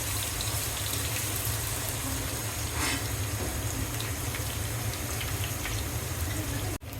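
Chopped onions sizzle in hot oil in a pan while being stirred, a steady, loud, dense hiss that continues almost unbroken before cutting off briefly at the end.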